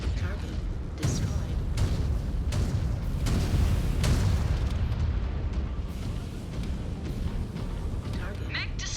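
A mech blowing apart in MechWarrior 5: Clans, a sustained roaring explosion with rumbling blasts and sharp cracks over a dense mechanical din, and a faint game voice in the mix.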